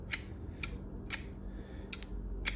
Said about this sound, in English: scissors as well.